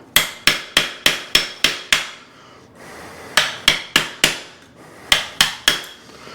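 Hardened plumber's putty being broken away with sharp, rapid knocks in bursts of several strikes separated by brief pauses, close and crisp with no voices.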